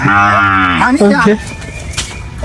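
A sacrificial cow for Eid gives a single loud, drawn-out moo close by, followed by quieter background sound.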